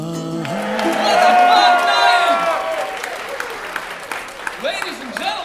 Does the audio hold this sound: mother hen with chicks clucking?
no